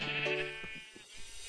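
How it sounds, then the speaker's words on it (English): Sheep bleating in a Minecraft farm pen, a single drawn-out nasal bleat near and clear at the start, followed by softer scattered low sounds with no talk. "A giant pen with a lot of sheep."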